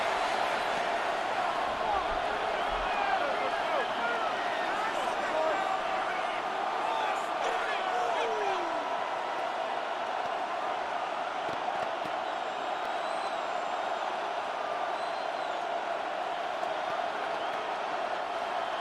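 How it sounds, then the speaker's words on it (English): Roaring football stadium crowd at a Denver Broncos versus Washington Commanders night game, a loud sustained wall of cheering and noise with whoops, and a commentator's voice running over it. "The crowd cranking it up another notch before 3rd and long."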